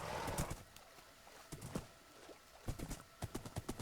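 Horse hooves clopping in an obby-style video game, a light rhythmic clip-clop of walking steps, close and fairly soft, becoming steadier and more regular toward the end.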